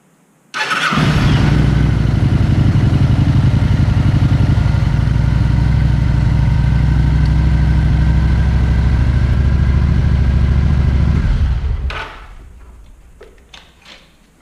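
Kawasaki Vulcan 900 motorcycle engine cranks and fires, then settles into a loud, steady idle for about eleven seconds before shutting off, leaving faint clicks and ticks.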